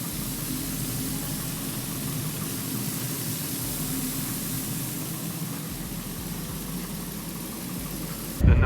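A Nissan Xterra engine idling, a steady low drone with broadband hiss holding evenly throughout, then a sudden thump right at the end.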